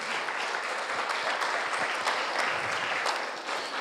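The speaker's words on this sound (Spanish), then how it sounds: "creo que ese aplauso era para mí" Sustained applause from a large church congregation after a sermon, dense and steady clapping lasting throughout without pause.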